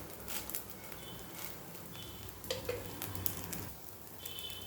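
Dhirde batter crisping in a pan over a gas flame, a steady broadband sizzle with occasional stirring scrapes and small pops, close and moderately loud throughout.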